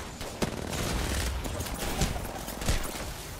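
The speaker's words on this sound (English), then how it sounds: "That's a fucking firing squad, dude." Video game gunfire from a firing squad, a burst of several overlapping shots cracking out in quick succession over a dense, noisy background, with sharp reports standing out at intervals.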